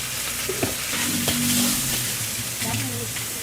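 Wide rice noodles and pork stir-fry in a wok at a Bangkok street food stall, giving a close, steady sizzle with scraping stirs and clatter throughout.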